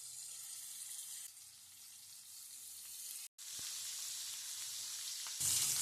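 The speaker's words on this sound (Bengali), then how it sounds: "কাতলা মাছগুলো একটু হালকা করে ভেজে নেব, তার জন্য কিন্তু একটা প্যান বসিয়ে দিয়েছি।" Pieces of katla fish frying in hot oil in a pan, a steady close hiss of sizzling that briefly cuts out, then resumes and swells louder near the end.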